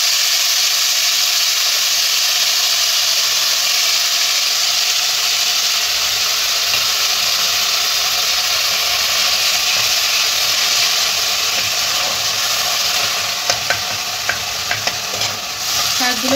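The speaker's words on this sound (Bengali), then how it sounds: "শাকগুলোকে আমি ভালোভাবে একটু ক্রাঞ্চিভাবে ভেজে নেব" Fenugreek greens fry loudly in hot white oil in a pan, a dense continuous sizzle and hiss that holds steady, with a few sharp crackles and stirring clicks near the end and no talking.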